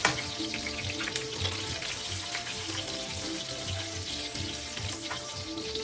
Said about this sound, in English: Olive oil and garlic when cooked together, they smell really good.